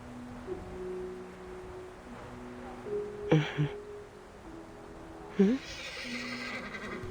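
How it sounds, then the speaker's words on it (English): A horse in a video game whinnies twice, a short call midway and a louder rising neigh near the end, over a low steady hum with faint voices. "Sounds like a horse to me."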